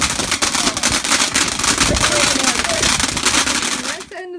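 Fireworks crackle and bang on bonfire night, a dense, continuous roar of bursts and crackling filling the whole stretch, with a person shouting and talking over it before it cuts off abruptly at the end.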